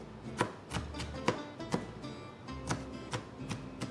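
A knife chops onions for Greek cooking (gyros, spinach pie, dolmades) in a steady rhythm of about a dozen crisp, close thuds on a board over four seconds, with no talking.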